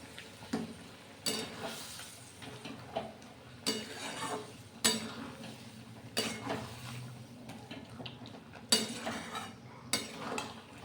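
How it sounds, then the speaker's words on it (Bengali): Fried potatoes and pointed gourd stirred in a pan for a vegetarian korma: soft scraping strokes of the spoon and light clinks against the metal come at an irregular rhythm over a quiet sizzle. "আলু পটলটা দিয়ে আমি খুব ভালোভাবে নেড়ে চেড়ে এটা মিশিয়ে নিচ্ছি"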